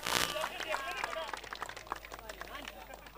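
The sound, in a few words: audience applause for Rehan Pathan at prize ceremony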